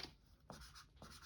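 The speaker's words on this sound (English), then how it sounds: "And I need to have a place to write this down. So let's write it down on this." Pen writing numbers on paper: short scratchy strokes in a few brief bursts, faint and close, with no voices.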